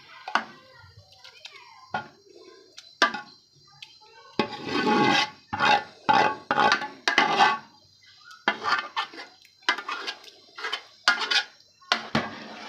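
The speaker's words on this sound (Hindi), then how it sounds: "ये देखिए अब इसको अच्छे तरीके से हम मिक्स करेंगे हलीम को" Chicken haleem being mixed with korma in a metal pot: a spoon scrapes and clanks against the sides in uneven bursts, close and fairly loud, with a few soft background voices between strokes.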